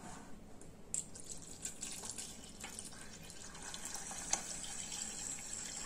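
Water poured into the pot of a low-sugar rice cooker, a faint, continuous trickle with a few small splashes, close by and quiet.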